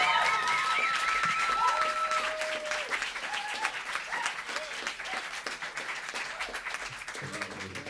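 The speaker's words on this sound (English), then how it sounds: "Can you please give him a huge round of applause?" Audience applause at a club event, loud and dense at first with whistles and cheers, gradually thinning into scattered claps as voices start up near the end.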